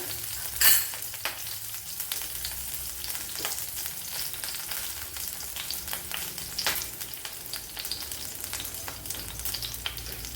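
Two green chillies and garlic sauté in a pan, giving a steady low sizzle with repeated light scrapes and taps of the stirring spoon.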